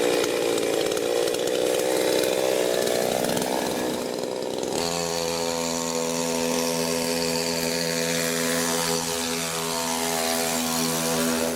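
A chainsaw engine mounted on a homemade bicycle motorbike runs loudly and steadily, its pitch falling and then settling into a buzzing, harmonic drone as it keeps running.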